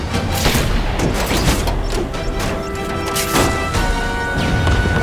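Car bomb exploding in The Amazing Spider-Man 2 video game, with heavy booming blasts and crashing debris in loud, repeated bursts over a constant rumbling background.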